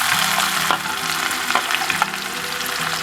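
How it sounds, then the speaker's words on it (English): Fennel seeds and onion frying in hot oil for a mutton kofta curry: a close, loud continuous sizzle and crackle with scattered pops, no talk. "So the oil is hot now. Let's first add the fennel seeds, then the onion,"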